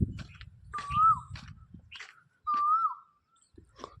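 An Asian koel calls from a bael tree on a village morning, two clear rising whistled notes, fairly close, separated by short pauses over faint background noise.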